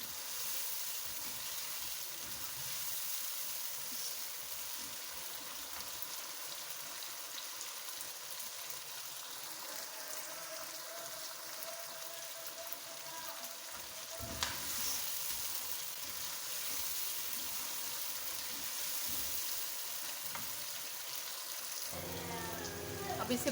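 Cauliflower and potatoes fry with spices in a pan, giving a steady dense sizzle that runs for a long stretch before a brief clatter near the end.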